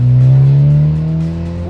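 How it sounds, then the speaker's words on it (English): A tuned 2015 Ford Mustang EcoBoost pulls hard in second gear, its engine note climbing loudly and close before easing off as the pull ends, with no talk over it. "let me do one more second gear pull here."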